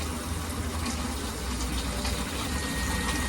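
Water rushes steadily out of a tankless water heater's opened valve during a flush with a chemical additive, a loud continuous gushing hiss with no speech.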